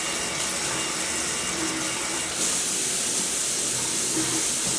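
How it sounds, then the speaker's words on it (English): Running tap water splashes steadily over a lemon being rinsed in a kitchen sink while cooking, a continuous close hiss that grows a little brighter and louder partway through. "You want to rinse this, of course, because you have to zest the lemon in."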